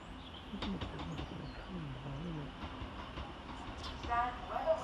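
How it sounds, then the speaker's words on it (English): Two Northern Class 150 diesel units pull into Hazel Grove railway station with a low rumble and rail clatter, heard at a distance under faint platform ambience and a brief bird chirp. "Arriving next into the station is 150-115 and 150-111, working the 1323 Northern service from Buxton to Manchester Piccadilly."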